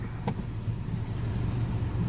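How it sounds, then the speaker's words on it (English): A Land Rover Discovery engine idles with a low, steady rumble at an even pace, with a brief faint click near the start; the vehicle has a cracked DPF. "Vehicle's idling."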